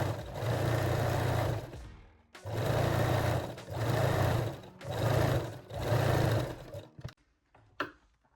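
A sewing machine stitches stretched elastic onto a garter belt in four steady bursts of whirring, each a second or so long and separated by short pauses, then a few light clicks and handling sounds.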